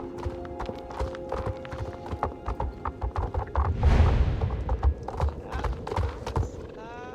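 Pony hooves trotting in the video game Star Stable Online, a steady rhythmic clip-clop with a brief whinny, while a voice speaks a single word.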